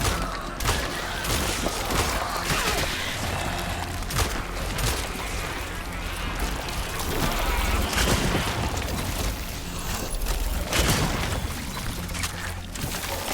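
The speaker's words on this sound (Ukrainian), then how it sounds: "І стріляємо останній ось цей пузирьок." Dense, continuous gunfire and explosions from the survival horror video game Cronos: The New Dawn during a boss fight, loud and unbroken with repeated heavy bursts throughout.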